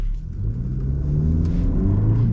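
A 2023 Hyundai Elantra N-Line engine pulling under partial throttle, a close, steady rumble with low harmonics that climb in pitch as revs build smoothly.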